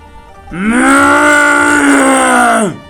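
A human voice imitates an ox bellowing: one long, loud, drawn-out moo-like groan that holds steady for about two seconds, then tails off, with no other sounds around it.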